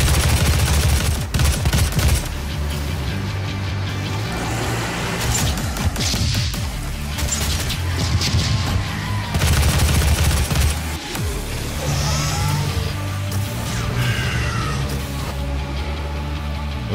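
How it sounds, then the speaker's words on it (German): Bursts of video game gunfire from DOOM crackle repeatedly over a stretch of time, sharp shots and rapid volleys with crashes mixed in, close and loud. "der Schuss geht durch die Wände."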